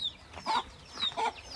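A chicken clucks faintly outdoors, giving a few short, soft calls in under two seconds against quiet background noise.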